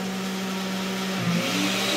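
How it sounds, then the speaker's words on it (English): A blender runs on a Bluetti EB55 portable power station, giving a steady whirring motor hum that swells slightly partway through. The sound is close and continuous, with no talking. "That's one blender."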